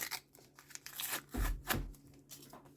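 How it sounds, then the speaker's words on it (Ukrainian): Someone carefully tears open a small paper packet close by, making soft crinkles and rustles with a few sharper rips, quiet and intermittent. "І цей так, пакетик. Обережненько відкриваємо."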